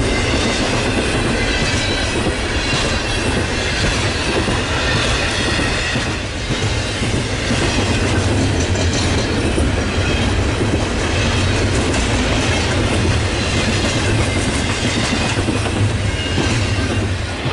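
A long Norfolk Southern intermodal freight train passes close by on the Chicago Line on a cold winter day, with a loud, continuous rumble and steady clickety-clack of wheels over rail joints and faint squeals throughout. No talking.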